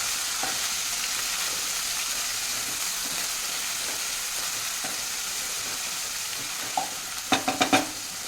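Fried onion with a spoonful of ginger garlic paste stirred in a pan, a steady close sizzle with occasional soft scrapes, then a quick cluster of sharper spatula knocks near the end, no talking.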